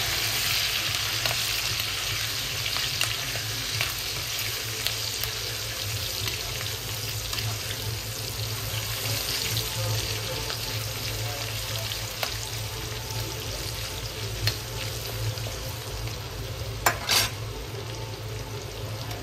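Slit green chillies and a generous handful of curry leaves fry in hot oil in a pan, a steady, close crackling sizzle that runs on without break, with an occasional sharper pop and no talking.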